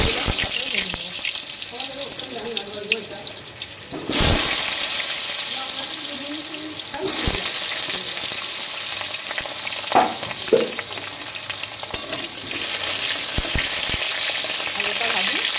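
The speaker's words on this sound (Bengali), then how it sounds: "আলুটা লাল লাল করে ভাজবো ভালো করে ঢাকা চাপা দিয়ে" Potatoes sizzle in hot oil in a home kitchen pan, a dense, loud, continuous fry with brief stirring clatters and a couple of sharper bursts where the sizzle flares up.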